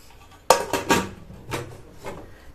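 A metal lid clanks onto a pot of kurma with a sharp knock, followed by a few lighter rattling taps as it settles.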